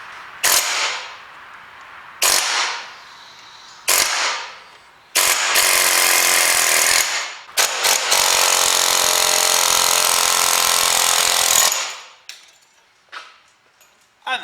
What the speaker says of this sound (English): I've just changed the connection on the air chisel to a chisel.